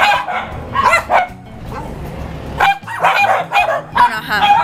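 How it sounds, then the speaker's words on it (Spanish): Several dogs bark and yip in short bursts at a family gathering, fairly close and loud, with a whimper between barks and people talking at times underneath. "Hay muchos perros."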